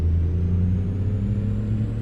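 A modded Ironworks W900 truck in American Truck Simulator, fitted with a 750 horsepower engine and a C12 sound mod, gives a steady, deep diesel drone that idles low and loud with no talking.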